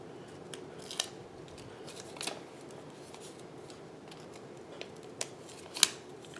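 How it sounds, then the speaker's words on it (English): Scissors trim card pieces for a holiday card, giving a few sharp, separate snips spread across a quiet background with no talk. "Let me trim these off first."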